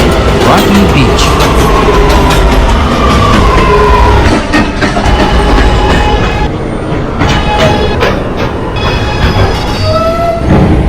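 A 207th Street-bound A train on the New York subway rumbles loudly along the track, wheels grinding and squealing in rising tones over a constant heavy roar, with brief rattling bursts midway.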